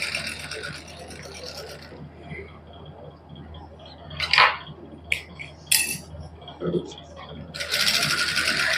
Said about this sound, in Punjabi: ਹੁਣ ਆਪਾਂ ਤੀਸਰੀ ਸਲਾਈ ਲਾ ਲਾਂਗੇ